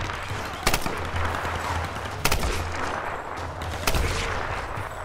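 Gunfire in the 2013 Tomb Raider video game: three loud, sharp shots spaced about one and a half seconds apart over a steady background of game ambience and rumble.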